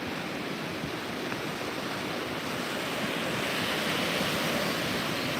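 Calm ocean surf washes steadily along a shore on a quiet morning, a continuous close hiss of breaking water with no distinct wave crashes and no voices.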